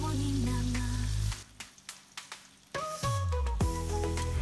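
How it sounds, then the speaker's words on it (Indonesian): Tofu frying in a pan crackles and sizzles loudly, stops for a stretch of scattered pops and spatters, then resumes a strong continuous sizzle. "Jadi di sini aku cuma goreng sedikit aja."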